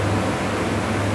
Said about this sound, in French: le ventilateur de gauche tourne